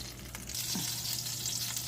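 Bacon-wrapped hot dogs frying, a steady close sizzle with a low hum underneath and one brief scrape partway through.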